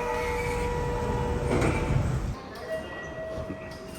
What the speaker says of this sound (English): Then change to the Tozai Line. Hop on the train bound for Rokujizo and get off at the Keage station.